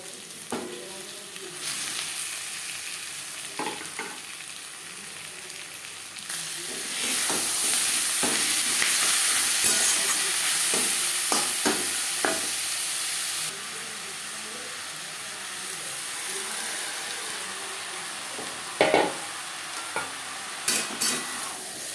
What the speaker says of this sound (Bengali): এই পর্যায়ে দিয়ে দেব ম্যারিনেট করে রাখা চিকেন।